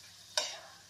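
Potatoes and carrots being stirred with pulao masala in ghee in a pan, two sharp scraping stir strokes over a faint background sizzle, close and brief, no voices.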